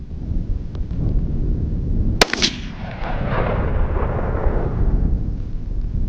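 A single sharp, loud rifle shot from a Ruger American Gen 2 in .308 fired at a range while zeroing a new gun, cracking out once and followed by a rolling echo that fades away, with no voices.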